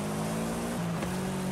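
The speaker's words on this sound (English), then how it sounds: "Whoa, the launch is pretty good" A Subaru 22B-style rally car launches in the video game Forza Horizon 5, a steady loud engine drone that drops pitch at a gear shift and then keeps pulling, with no voices.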